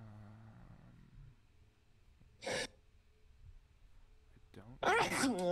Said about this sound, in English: I have very violent sneezes.